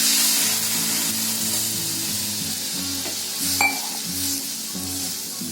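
Milk poured into a pan of melted butter for carrot kheer, sizzling and frying steadily while a spoon stirs, with a brief clink of utensil against the pan partway through; a low tonal hum runs underneath and no one speaks.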